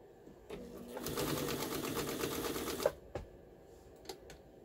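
A Pfaff 130 sewing machine stitches through four layers of upholstery material at a long stitch length, running in a steady loud whirring burst for about two seconds before stopping, followed by a few faint clicks.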